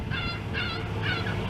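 A bird, likely a goose or similar fowl, honks in three repeated calls close by on a Montreal street, Rue Sherbrooke, over steady traffic rumble.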